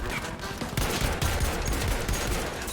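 Dense gunfire from a Battlefield V battle on Iwo Jima, with rapid rifle and machine-gun bursts and heavier tank shots layered into a loud, continuous barrage and no clear voices.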